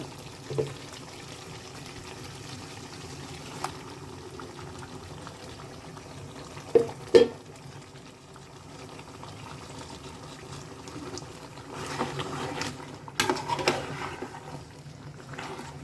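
Meat simmers in a pot with a soft, continuous bubbling, faint and close, broken by a few sharp clinks and later by rustling and splashing as greens are added.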